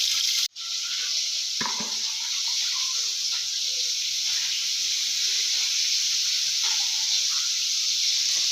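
A simmering parshe fish curry hisses and bubbles steadily after a spoonful of raw mustard oil goes in, a close continuous hiss that breaks off once at the start and then carries on with soft sputters.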